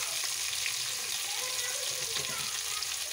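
Chopped tomato with turmeric and salt frying in a pan for Nellore chappalu pulusu, a steady close hiss and sizzle with faint stirring scrapes, no talking.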